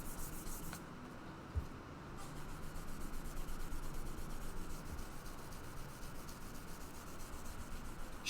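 Steady abrasive rubbing of sandpaper on wood while shaping a handmade guitar, continuous close scratchy strokes with a brief bump near the start and no talking.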